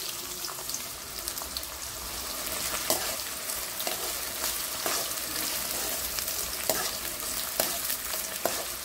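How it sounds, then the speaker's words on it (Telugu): Sliced onions frying in hot oil in a home kitchen for a chicken dish, a steady close sizzle with occasional crackles and stirring clinks, no talking. "ఆయిల్ హీట్ అయిందండి. ఇప్పుడు ఉల్లిపాయలు వేసుకుందాము."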